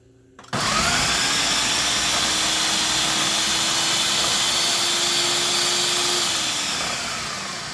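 A food processor blending ravioli filling starts abruptly and runs as a loud, steady, close whirring drone for several seconds before its pitch eases down as the motor slows.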